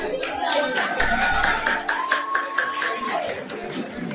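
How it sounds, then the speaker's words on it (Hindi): Audience applause at an influencer award show, a dense, steady crowd clapping close and loud throughout, with a host's amplified voice speaking over it. "प्लीज तालियां बजा दे"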